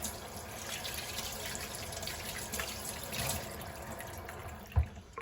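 Tap water runs steadily into a sink during hand washing, a soft continuous splashing hiss with small fluctuations and a brief thump near the end.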